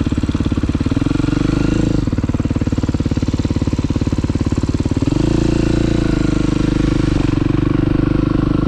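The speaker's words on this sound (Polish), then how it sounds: "Jeżeli chodzi o enduraki 350." A 350cc Beta enduro motorcycle engine running loud and close with a steady, buzzing mechanical rattle, its revs stepping down and then climbing again partway through.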